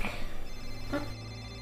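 A single telephone ring sounds inside the Mystery Case Files: Dire Grove computer game. It is one short electronic ring over a steady low hum, and nothing follows it.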